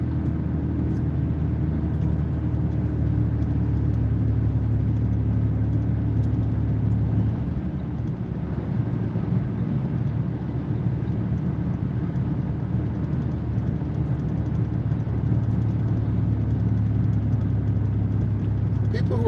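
A car cruising in busy highway traffic gives a steady, loud, low rumble of engine and road noise that carries unbroken for the whole stretch.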